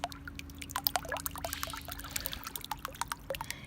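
Water pouring and trickling in a jacuzzi, close and quiet, with many small irregular droplet plinks and splashes over a soft low hum.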